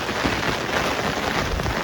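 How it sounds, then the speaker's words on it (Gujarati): Heavy rain driven by strong wind pours down in Surat, making a dense, even roar of drops and gusts that stays loud and constant, with no voices. "બહુ વરસાદ છે ભાઈ પવન બહુ છે"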